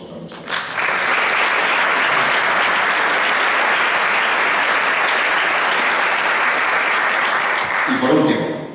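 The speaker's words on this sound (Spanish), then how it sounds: "Un aplauso para nuestra." An audience at a book presentation breaks into strong, steady applause for a minister and mayor of Puertollano, loud and continuous for about seven seconds before a voice returns at the end.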